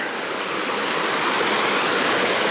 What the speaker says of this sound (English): This is a confluence of a couple of creeks here.